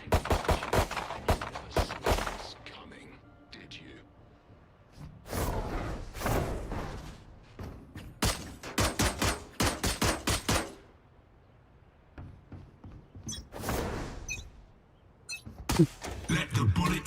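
Bursts of gunfire from a Valorant match at VCT Masters Madrid, several rapid volleys spread across the stretch with quieter gaps between, heard alongside people talking.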